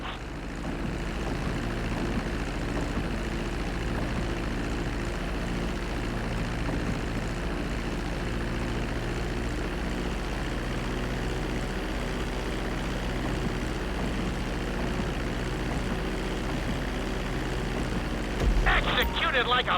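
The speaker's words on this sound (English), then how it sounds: "reducing the plane's altitude gradually so you're just above the runway as you approach" A plane in GTA 5 drones steadily as it descends just above the runway on approach, a continuous engine hum held at an even level throughout with a brief bump near the end.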